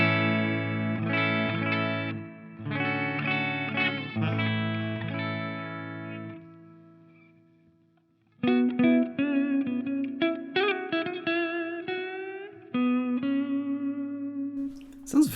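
Clean electric guitar tone through a Donner Arena 2000 modelling a Fender Twin amp into a 112 cabinet: sustained chords ring out and fade, then a busier run of picked notes and chords follows, played alone.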